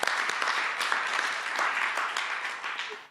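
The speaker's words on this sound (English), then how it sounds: "Another round of applause for all of those people as well, too, please." Audience applause at a chamber of commerce luncheon, a steady dense wash of many hands clapping close by that carries on for a few seconds before stopping abruptly.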